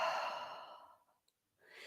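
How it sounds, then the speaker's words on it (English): A long, soft exhale during a slow yoga flow fades out gradually, leaving a brief near-silence before another breath begins. "And breathing out."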